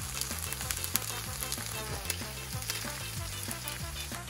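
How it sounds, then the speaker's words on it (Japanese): Gyoza sizzling hard in a hot pan as the last water boils off to crisp the lacy wing, a loud, dense, continuous crackle, with no talking. "この水気を飛ばして羽に色がつくまで焼きます"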